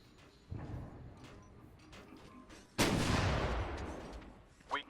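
Anti-aircraft guns fire in the Marvel Ultimate Alliance 2 video game, one heavy boom and then a long rumbling decay over quieter background battle noise.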